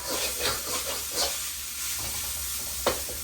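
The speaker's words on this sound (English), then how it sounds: "while this is starting to fry" Pork sizzles steadily in a hot pan while cooking for gochujang pork, a close, continuous frying hiss with a brief clatter of the pan near the end.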